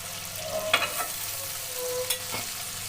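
Spices with salt, turmeric and a splash of raw milk are stirred in a pan, with a steady soft sizzle and a couple of scraping stirs, and no voices.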